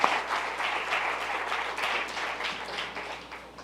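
Audience applause welcoming a university distance-education coordinator at a Mexican school event, dense sustained clapping from a room full of people, moderately loud and even, slowly thinning toward the end, with no voices over it.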